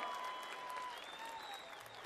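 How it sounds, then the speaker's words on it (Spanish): A festival audience at a chamamé festival in Corrientes gives a steady, even wash of applause, faint and distant with no breaks. "Un fuerte aplauso para todos ustedes"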